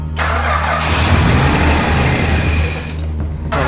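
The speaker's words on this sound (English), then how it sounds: "We hooked up the fuel pump and the carburetor and the exhaust and whatnot, and now we're trying to get it to idle." A car engine being started while running off a jerry can with a freshly hooked-up fuel pump, carburetor and exhaust; a loud, continuous cranking and engine roar fills the clip, then cuts off near the end.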